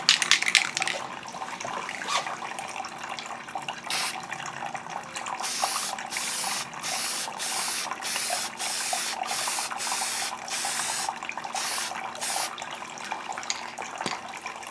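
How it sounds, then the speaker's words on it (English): A series of short, sharp hisses from a Testors decal bonder aerosol spray, about eight quick bursts in a steady rhythm, close to the microphone after a few seconds of background noise. "Now you'll spray it with the other part of this system. It's Testor's decal bonder spray."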